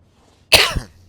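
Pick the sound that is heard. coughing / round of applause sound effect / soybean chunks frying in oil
coughing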